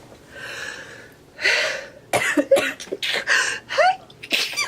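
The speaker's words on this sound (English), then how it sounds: "so I'm going to sneeze" A sharp sneeze bursts out up close, surrounded by breathy gasps and short throat-clearing sounds.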